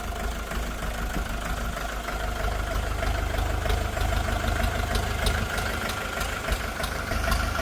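A SCOUT 504CRX mini tractor engine idles steadily nearby, a continuous low rumble with a faint rhythmic knock and no talking.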